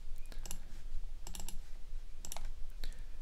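Quiet, sharp computer mouse clicks come in small clusters while image files are added, faint clicking against a low hum.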